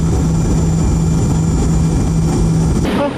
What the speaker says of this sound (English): I actually went to the very back to enjoy the engine of the JT-AD.